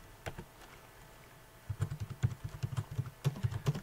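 Typing on a computer keyboard in MS Word: a few scattered keystrokes, then a steady run of close, crisp key clicks with short gaps between words, no voice.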